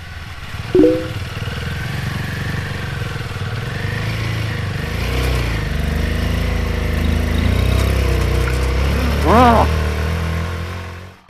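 A Royal Enfield motorcycle engine runs on a high-altitude Himalayan mountain road, a steady, close, low thrumming drone that rises slightly toward the end, with a voice briefly audible over it.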